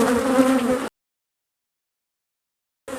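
Honeybees buzz around a beehive box during a honey harvest, a close, loud droning hum that abruptly cuts to silence and then briefly returns at the end.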